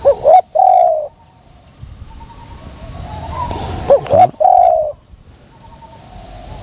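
A spotted dove coos in a dove decoy contest, loud close phrases in two bursts with quieter cooing between them and faint background chatter.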